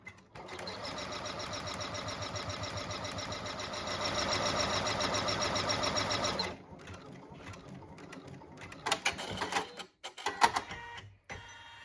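An embroidery machine stitches out a step on a tab-style two-slot credit card holder with an eyelet, a dense rapid mechanical chatter running steadily for about six seconds before stopping, followed by quieter handling clicks and a few sharp knocks.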